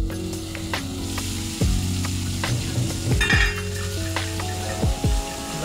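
A dish cooking down with all its spices in a pan, steady frying sizzle with spoon stirring and a few clinks of metal on the pan, close by and without talk.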